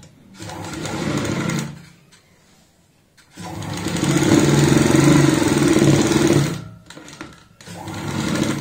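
A sewing machine stitches a capri pocket in bursts, its motor humming and the needle whirring fast and close, stopping briefly between runs.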